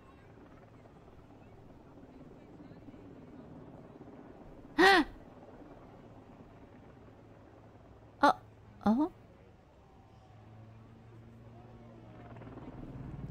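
Distant helicopter rotor drone hums faintly and steadily throughout, while a few short sharp vocal gasps and exclamations break in near the middle and a brief swell of noise comes at the end.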